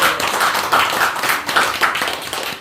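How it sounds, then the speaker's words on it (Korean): An audience at a literary talk concert claps in thanks for a poet, a lively round of close clapping with distinct rhythmic bursts that fades slightly toward the end. "우리 감사의 박수 한번 보내드릴까요?"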